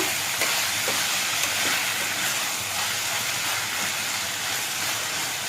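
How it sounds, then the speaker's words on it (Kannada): Chopped tomatoes fry in a pan for tomato rice, giving off a steady, bright sizzling hiss that holds at an even level throughout, close up and with no voices. "ಸ್ವಲ್ಪ ಚೆನ್ನಾಗಿ ಸ್ಮೂತ್ ಆಗೋವರೆಗೂ ಫ್ರೈ ಮಾಡ್ಕೊಳ್ಳೋಣ."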